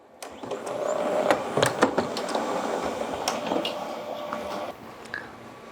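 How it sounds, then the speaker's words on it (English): An HP Color Laser 150 printer calibrates after a new toner cartridge is installed, whirring and clicking mechanically for several seconds with sharp ticks and a steady motor drone that drops off near the end. "Once the printer is closed, it will automatically quickly calibrate and adjust to the new toner cartridge that just been installed."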